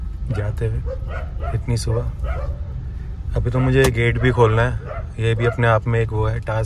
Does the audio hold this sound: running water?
no